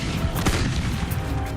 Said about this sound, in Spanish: El asalto comienza con fuego de artillería de 700 piezas aliadas